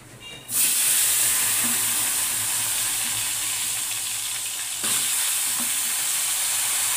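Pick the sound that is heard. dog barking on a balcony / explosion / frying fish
frying fish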